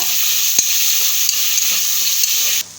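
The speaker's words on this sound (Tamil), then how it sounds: "கட் பண்ணி வச்ச தக்காளி பழத்தையும் உள்ளே சேர்த்துக்கலாம் அதையும் சேர்த்துட்டு கலந்து விட்டுக்கோங்க" Onions and tomatoes fry in a pan with a steady loud sizzle and hiss, broken by a few faint scrapes and knocks from stirring, close by.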